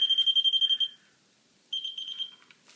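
A Light Keeper Pro light tester beeps rapidly, about ten short electronic tones in quick succession, then silence, followed by a second burst of steadier high-pitched beeps.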